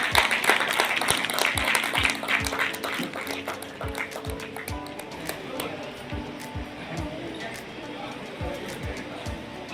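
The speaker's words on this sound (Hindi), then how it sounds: "तालियां बजती रहनी चाहिए" An audience at a student award ceremony claps steadily, a dense patter that fades a little over time, while a voice speaks over a loudspeaker at the same time.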